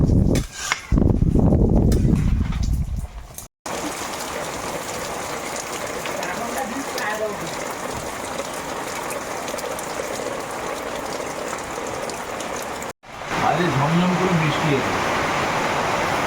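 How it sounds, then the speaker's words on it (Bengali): Steady rain falls in a dense, even hiss, with a brief louder stretch and muffled sounds near the start and a faint voice-like murmur toward the end. "বৃষ্টি পড়ছে আর শব্দ হচ্ছে"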